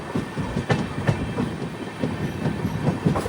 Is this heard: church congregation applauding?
no